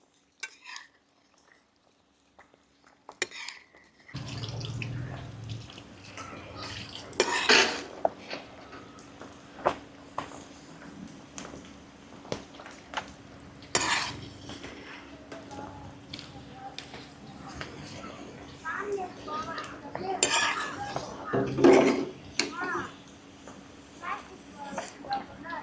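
Pieces of koramenu fish frying in a pan for pickle, giving a faint sizzle with occasional utensil knocks and scrapes that begins after a few seconds of quiet, while a voice talks over it intermittently.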